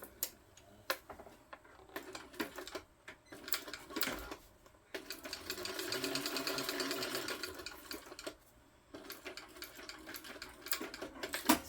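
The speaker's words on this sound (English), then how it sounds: "And then I just top stitch it down 1/8 of an inch from the edge" A sewing machine top stitches a tote bag edge at close range, with scattered clicks and handling ticks before and after a few seconds of continuous, even stitching in the middle.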